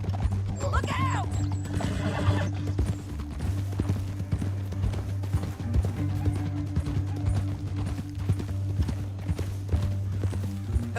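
Horses gallop in Red Dead Redemption 2 with steady, close clip-clopping hooves and a whinny near the start, under a continuous low drone and scattered game sounds.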